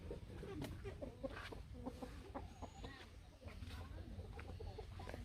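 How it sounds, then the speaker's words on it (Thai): Several chickens cluck repeatedly in short bursts, fairly close, over steady low background noise. "มีแต่ไก่ทั้งนั้นเลย"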